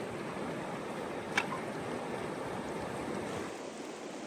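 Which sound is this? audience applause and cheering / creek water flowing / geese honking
creek water flowing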